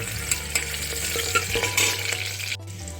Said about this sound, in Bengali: আদা রসুনটা আমি এর মধ্যে দিয়ে দিলাম আর হালকা করে এটা নেড়ে দেবো